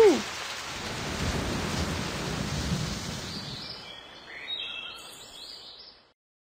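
Cartoon thunderstorm: a sharp thunder crack opens into steady, loud rain hiss with low rumbling, then rain softening with brief bird-like chirps before cutting to silence.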